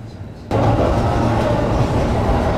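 A JR Keihin-Tohoku Line rapid train departs Hamamatsucho Station, Tokyo, rumbling steadily after a sudden jump in loudness at the start, with low engine hum and broadband rolling noise, close and continuous.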